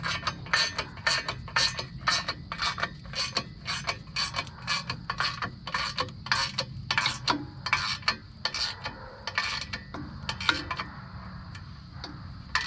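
A Ford clutch pressure plate is bolted down with a hand tool, each bolt tightened in a quick run of sharp metallic ratchet clicks, repeating in a brisk, even rhythm close by, then slowing and fading near the end.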